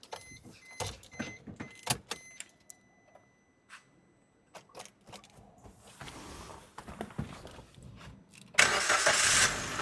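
A 2021-model car with about 39,000 on the clock, parked in a Punjab village, gives a few faint clicks and taps before its engine cranks and catches near the end, ending in a loud, steady rush of running engine.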